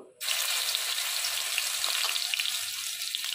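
Ginger and green chili paste hits hot oil with dried red chili and bay leaf, bursting into a sudden loud, bright sizzle that stays steady and hissing close up, with no one speaking.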